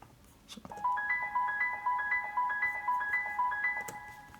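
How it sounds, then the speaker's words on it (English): Piano-sound arpeggio in FL Studio for a melodic Afro House track: bright, short notes repeat in a steady, bell-like pattern over a sustained chord, moderately loud and alone with no voice. "I also did it for this piano sound."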